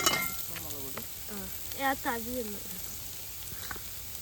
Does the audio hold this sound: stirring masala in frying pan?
yes